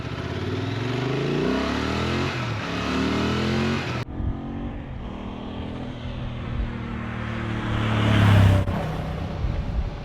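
A Honda XL750 Transalp motorcycle sets off on a road test, its engine revving up through rising gear pulls, pausing at a shift, then accelerating again to a louder, nearby roar amid wind rush.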